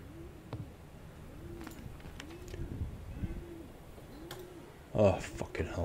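Pigeon cooing inside the haunted Soviet summer-camp video game Summer of '58: soft, low, repeated coos in a steady rhythm of about five phrases, with faint game ambience and a brief louder thump near the end.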